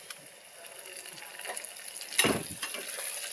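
Bay leaves, curry leaves and whole spices frying in hot oil in a pan for masala bhat, giving a soft steady sizzle with a brief louder stir or hiss partway through, close and fairly quiet.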